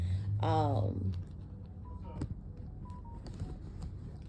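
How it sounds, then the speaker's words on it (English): Phone notifications go off as a quick rising chirp followed by a couple of short, faint beeping tones, while a voice talks in the background. "I know y'all heard all those notifications."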